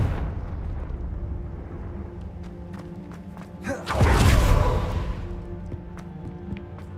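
A Confringo fire spell cast in Hogwarts Legacy erupts in a loud, rumbling explosive burst that swells and then fades over a couple of seconds, set against ongoing game ambience with scattered sharp clicks.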